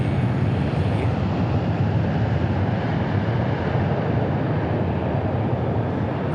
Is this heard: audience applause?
no